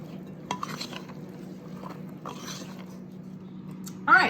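A Danish dough whisk stirs orange cranberry cake batter, with a few soft, wet scraping strokes in short bursts over a low steady hum and a brief louder sound at the end.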